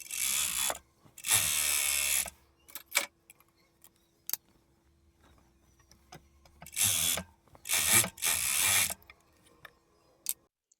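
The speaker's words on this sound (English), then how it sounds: "then we're ready for serger" A serger overlocker stitches a garment's side seam in several short, loud bursts of rapid mechanical whirring, separated by quiet pauses filled with small clicks and handling noises.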